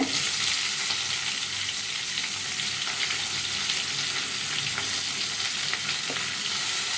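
Mustard seeds and onion fry in a pan with a loud, dense, continuous sizzle close by. Faint crackles and occasional stirring scrapes are heard, and there is no talk.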